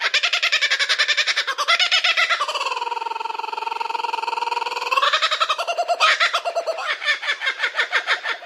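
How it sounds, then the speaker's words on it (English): A kookaburra gives its loud, laughing call, a run of rapid cackling notes that rise into sustained hooting cries before breaking back into quick chuckles, close and alone with no talking. "The bird's laugh, which it uses to establish territory among family groups"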